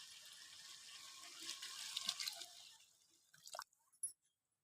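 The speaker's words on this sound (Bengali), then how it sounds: "এই দেখুন আমি দিয়ে দিয়েছি জল" Water is poured into a cooking pot of nearly boiled potatoes for a potato and soya curry, making a soft, faint splashing stream that tapers off into a few drips.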